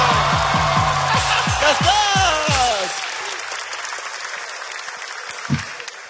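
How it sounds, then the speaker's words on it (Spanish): A studio audience at a comedy talk show applauds loudly alongside bouncy music for about three seconds, then the clapping fades into quieter scattered noise with a brief thump near the end. "Un fuerte aplauso"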